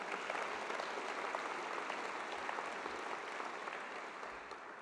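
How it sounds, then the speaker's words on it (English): Sustained audience applause fills a university convocation hall, a dense, even wash of many hands clapping at steady loudness throughout, slowly easing toward the end. "Give them another round of applause, please."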